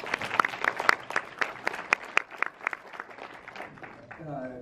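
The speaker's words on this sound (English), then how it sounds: "Round of applause for Howard." An audience at a corporate conference event claps in a steady, moderately close round of applause with distinct individual claps that fades toward the end.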